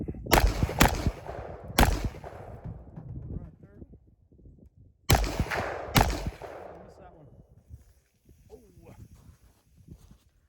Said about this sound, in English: Okay, and we've done some shooting.